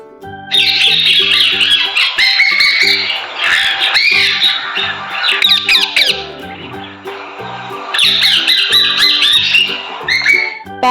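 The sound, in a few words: parrot squawking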